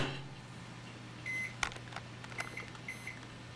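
Microwave oven running with Christmas lights inside, a steady low hum and whir with a bright sustained electrical tone, then sharp crackles and brief pops as the lights start to spark.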